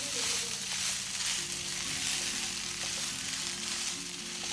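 Cooled rice stirred and tossed in a hot pan, with a continuous soft sizzle and scraping under it, fairly close and steady throughout.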